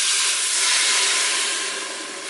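A pressure cooker holding beef bourguignon vents a loud, continuous hiss of steam that swells and then eases slightly toward the end, with no voices.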